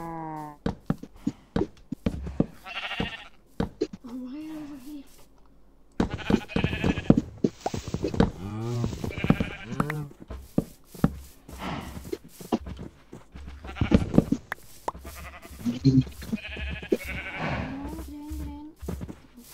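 Sheep in a video game bleat repeatedly amid busy clip-clopping hooves and other game noises, loud and continuous throughout.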